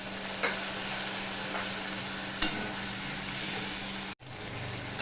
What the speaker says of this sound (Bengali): মশলাটা কষানোর জন্য একটু জল দিয়ে দিলাম